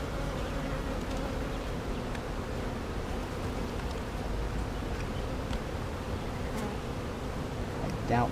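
Honeybees buzz steadily and densely at a hive during queen marking, a continuous close swarm drone with no talk over it.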